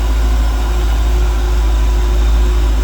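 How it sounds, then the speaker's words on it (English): A 1967 Chevrolet C10 pickup's 350 engine idles close by, a smooth, even low rumble that holds steady throughout with no voices. "listen how smooth that 350 runs"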